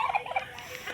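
A turkey gobbles in a quick, warbling burst, fairly close and clear, with a few softer calls trailing after.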